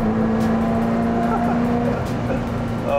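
A Ferrari 348TS convertible engine hums steadily from inside the car while driving in Singapore, a smooth continuous drone with a strong steady tone, loud and close with light cabin and road noise.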